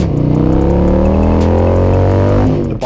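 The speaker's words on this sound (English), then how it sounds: "The bike has been running great with both of these mods in place" A Harley-Davidson M8 motorcycle engine fitted with an Arlen Ness external breather and crankcase vent runs loud and close, a steady deep rumble that climbs slightly in pitch, then briefly dips near the end.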